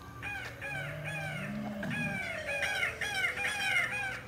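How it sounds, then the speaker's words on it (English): An animatronic Velociraptor at the Tulsa Zoo gives repeated squawking, bird-like calls, fairly close and loud, in rhythmic bursts over a low outdoor background rumble. "Why does it sound like a bird but look like a dinosaur?"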